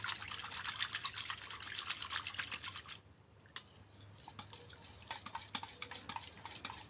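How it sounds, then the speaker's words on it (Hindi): A yogurt mixture for kadhi pakoda being stirred and mixed, giving steady close scraping and light clinking of a utensil against the container, with a brief pause midway and no talking. "दही को भी इसमें डाल के अच्छी तरह से मिक्स करना है।"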